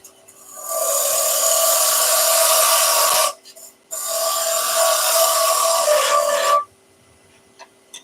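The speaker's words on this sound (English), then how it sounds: "So we're going to round over a bead" Spindle gouge rounding over a bead on a spinning wood lathe, two steady, loud scraping cuts of about two and a half seconds each, split by a short pause, with faint ticks afterward.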